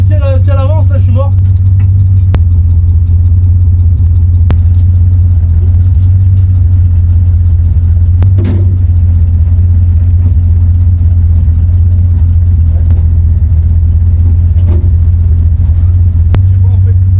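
A car with faulty brakes sits with its engine running, giving off a steady, loud low rumble throughout, with a few sharp clicks and a brief voice near the start.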